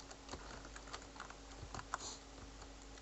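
A command such as a file deletion is typed on a computer keyboard into the Windows command prompt: faint, irregular key clicks tapping along for a few seconds over a low steady hum, with no voice.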